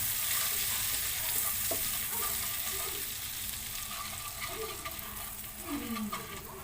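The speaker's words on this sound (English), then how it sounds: "So first we have to saute this." Soft sizzling of milk, corn flour, Worcestershire, soy sauce and lime sautéing in a pan for beef steak gravy, a quiet steady hiss with occasional stirring scrapes and faint clinks.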